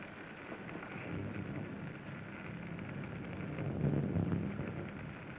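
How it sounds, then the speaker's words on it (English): Rain pouring in a 1941 black-and-white film, a dense, steady hiss with a low rumbling undertone that swells briefly near the end, and no one speaking. "It's raining."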